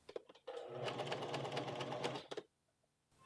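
A sewing machine stitches a shirt collar seam, running in one steady close burst of rapid needle clatter for about two seconds, with a few clicks before and after.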